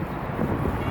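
Wind buffets the microphone at Victory Square in a continuous close low rumble, dense and unbroken for the whole second.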